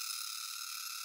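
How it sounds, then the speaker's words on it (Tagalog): An afternoon cricket in the Philippines keeps up a faint, steady, high-pitched trilling buzz without pauses over a quiet outdoor background. "Yan pala yung tunog ng cricket?"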